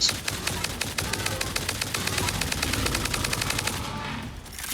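Rapid automatic gunfire from a rifle loaded with turbo ammo in the factory-building game Satisfactory, a dense, steady stream of sharp shots for several seconds before breaking off near the end.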